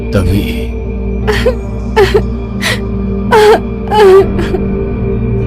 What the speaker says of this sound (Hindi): उसे किसी लड़की के रोने की आवाज सुनाई देने लगती है